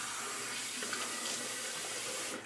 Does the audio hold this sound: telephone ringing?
no